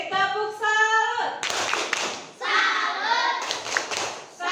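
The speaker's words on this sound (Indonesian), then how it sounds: "Tepuk salut untuk Sigit." A primary school class claps in a quick rhythmic salute pattern while voices chant along, with the teacher speaking between bursts of claps.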